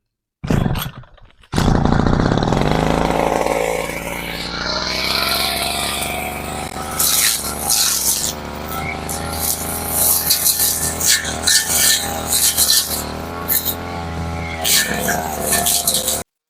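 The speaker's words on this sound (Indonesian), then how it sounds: "Saya akan potong rumput-rumput ini menggunakan mesin potong rumput." A motorized grass cutter roars loudly as it clears weeds from a chili seedbed plot. After a brief start the engine holds a steady buzzing drone with surges and dips in pitch, running alone throughout.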